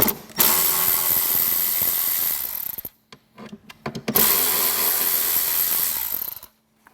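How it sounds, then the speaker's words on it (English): Two T15 Torx screws being backed out of a Boom Audio bag with a power driver, heard as two loud, close whirring bursts separated by a short pause filled with light handling clicks. "Remove these 2 T15 Torx."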